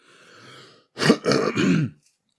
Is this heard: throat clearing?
yes